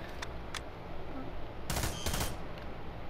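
Rifle gunfire in the America's Army video game: a few sharp shots early, then a loud rapid burst midway, over constant game background noise.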